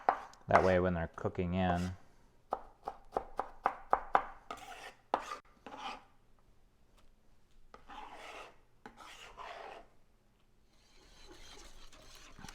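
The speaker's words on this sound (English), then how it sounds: "am going to mince these really well." Knife mincing fish cake ingredients on a board, a fast burst of close chopping strokes at the start followed by scattered lighter taps and scraping, while a person talks.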